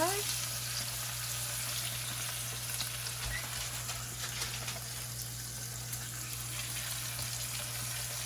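Pork saltimbocca with prosciutto and sage sizzles steadily in a pan, prosciutto side down, a close, even frying hiss with a low electrical hum beneath.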